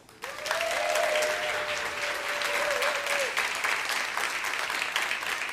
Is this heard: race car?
no